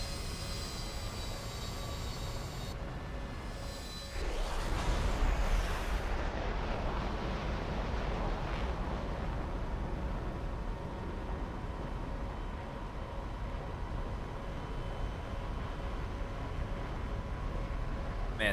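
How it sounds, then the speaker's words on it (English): F-104 jet roaring down the runway on takeoff in the combat flight game War Thunder, a loud sustained engine rumble that surges after a few seconds and holds strong and steady with a faint whine above. "that F-104 is really trying to get off the ground"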